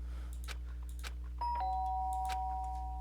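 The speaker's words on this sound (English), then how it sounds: "The sharp sound of the doorbell pierced my sleepy haze and pulled me back to the real world." A bright two-tone doorbell chimes once in the video game Danganronpa over a low steady hum, with faint soft background clicks before and after.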